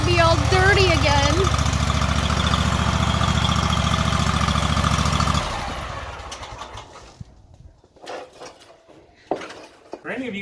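A lawn mower engine idles loud and close with a steady droning rumble for several seconds, then cuts off, leaving quieter clanks and handling noises.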